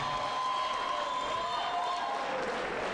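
Crowd applause and cheering fill a professional fight venue after a debut pro bout, a steady dense wash of clapping with no gaps, loud and continuous throughout.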